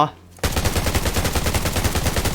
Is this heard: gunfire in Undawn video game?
yes